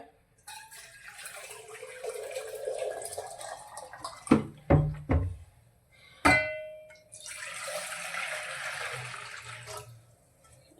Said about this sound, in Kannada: ಮುದ್ದೆಗೆ ಸ್ವಲ್ಪ ನೀರು ಇಟ್ಕೊಂಡ್ಬಿಡೋಣ